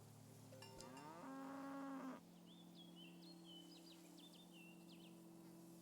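A single long moo from a cow in the video game SEASON, loud and close, followed by faint chirping birds over a steady background hum.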